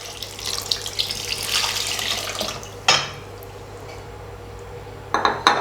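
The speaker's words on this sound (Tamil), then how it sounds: "இப்போ இதில் நிறைய தண்ணி விட்டுக்கலாம்." Steady running water pours and splashes into dosa batter for several seconds, with a few light clinks of a utensil or bowl near the end.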